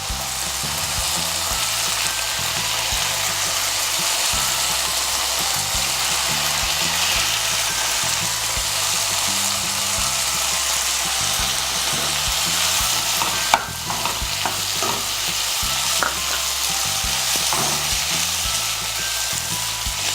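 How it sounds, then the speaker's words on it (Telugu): Ridge gourd and moong dal frying in a pan for a curry, a steady loud sizzle with occasional stirring scrapes and clinks, continuous throughout with no talking. "పెసరపప్పుతో బీరకాయ కొద్దిగా వేగాలి."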